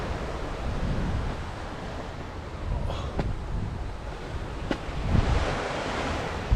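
Waves wash onto Lady Bay beach in Sydney Harbour, a steady surf roar mixed with wind buffeting the microphone. A couple of faint sharp clicks come through, and no one talks.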